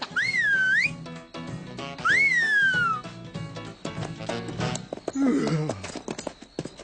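A cartoon character whistles two loud, swooping rising-and-falling tunes in quick succession, followed by busy cartoon sound effects and clip-clop-like patter.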